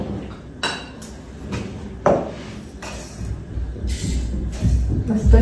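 A metal pot of tea set down on a kitchen stove, giving several close clinks and knocks of metal on metal with a faint ring, with one sharper clank near the middle.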